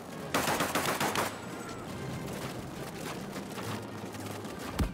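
Rapid gunfire in a World War II combat game set in the 1939 German invasion of Poland: a dense opening burst of automatic shots, then steady crackling rifle and machine-gun fire at a distance.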